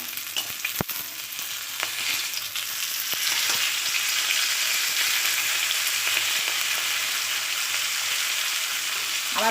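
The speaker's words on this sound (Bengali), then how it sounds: "চলো আমি মাছটা এবারে ভাজবো" A fish head frying in oil crackles with a dense, loud, close sizzle that holds steady throughout, with an early sharp tap and no speech.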